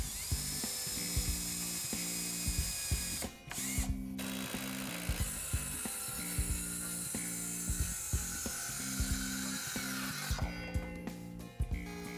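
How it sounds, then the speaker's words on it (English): A power drill driving exterior-grade screws into pressure-treated southern pine for a planter box, with repeated whirring bursts in a steady stop-start rhythm and short pauses between them, close and fairly loud. "Drill pilot holes and install exterior grade fasteners designed for use in pressure treated wood."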